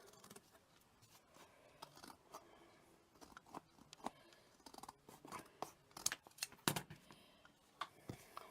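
Scissors snipping craft material for a mini Christmas tree project, a quiet run of short close snips and scrapes that grow sharper and more frequent toward the end.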